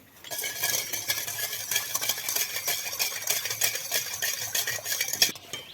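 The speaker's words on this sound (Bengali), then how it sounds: "কর্নফ্লাওয়ারটা দিয়ে ভালো করে মিশিয়ে নিতে হবে" A spoon stirring cornflour into a watermelon juice mixture in a pot, with rapid scraping and clinking against the metal that runs continuously and close up, without voices.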